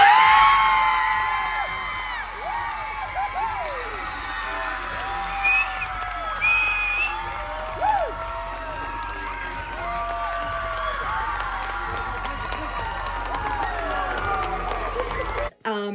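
A large audience at an a cappella competition bursts into whoops, cheers and sustained applause for the first-place group, excited shouts rising over the clapping and continuing for a long stretch.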